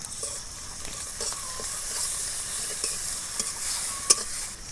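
Garlic paste and onions frying in hot oil, a continuous bright sizzle with a few soft stirring scrapes and one sharp spatula tap near the end, close and unaccompanied by voices.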